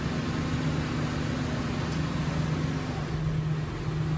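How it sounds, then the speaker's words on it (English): Steady engine drone with a low humming tone that shifts slightly in pitch, heard against a constant noisy background. "as you hear the engine revving behind me"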